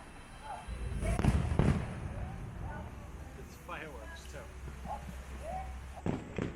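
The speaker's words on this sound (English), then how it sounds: "we would have missed the welcome home fireworks" Welcome home fireworks burst over the World Showcase Lagoon at Epcot during a night event, with distant booms and crackles under nearby crowd chatter and voices.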